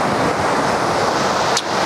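Sea waves break and splash against the coastal defences at Cobbolds Point, Felixstowe, in a steady broadband wash close to the microphone, with wind buffeting throughout and one sharp hiss near the end.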